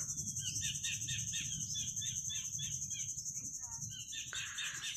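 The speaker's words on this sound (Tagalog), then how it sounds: "Can you hear the birds?" Birds chirp in quick repeated bursts at the Olango Island wildlife sanctuary in Cebu, Philippines, over a constant high insect-like whine and a low rumble of wind or water.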